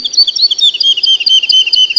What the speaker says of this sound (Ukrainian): Хто це так весело співає? Так, це птахи.